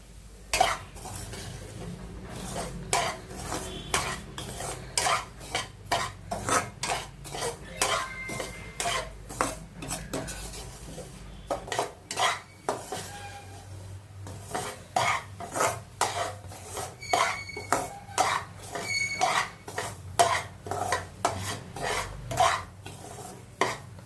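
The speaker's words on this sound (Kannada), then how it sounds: "ಒಂದು ಬೌಲ್ ರವೆ ಹಾಕ್ತಾಯಿದ್ದೀನಿ ಇದನ್ನು ಒಂದು ಸ್ವಲ್ಪ ಹುರ್ಕೊಂಬಿಡ್ತೀನಿ" Semolina dry-roasting in a hot pan, stirred continuously with a metal utensil, producing a long run of rapid rhythmic scrapes and clinks over a soft sizzle, fairly close.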